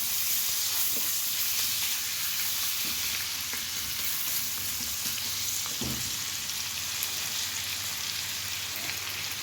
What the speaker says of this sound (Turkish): soğanımı karamelize ediyorum